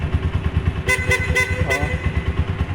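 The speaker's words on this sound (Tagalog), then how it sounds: "Kaya lang yung busina ko naging ngungo na." Four short, choked-sounding honks from a water-damaged motorcycle horn come in quick succession over a loud, steadily chugging motorcycle engine.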